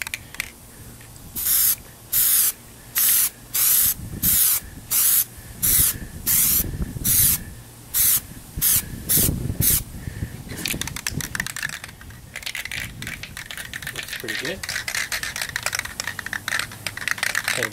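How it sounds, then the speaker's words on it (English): Plasti Dip sprays from an aerosol can onto a car emblem in short, rhythmic hissing bursts, about a dozen evenly spaced, followed by a denser stretch of crackly, uneven spraying noise. "Let it dry a minute and put a little bit more on. A little bit dry now. Another spray or so."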